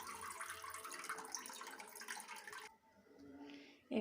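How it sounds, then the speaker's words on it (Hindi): Water from a bowl is poured over sugar for syrup, a continuous close splashing trickle that stops abruptly, followed by faint handling and a short knock. "1 कटोरी पानी डाल देती हूँ।"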